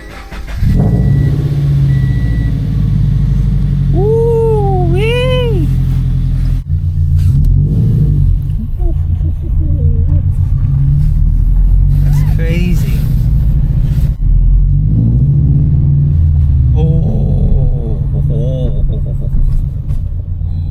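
A Subaru BRZ with unequal-length headers rumbles at idle and revs up loudly several times, deep engine drone throughout with rising and falling rev sweeps, close and steady.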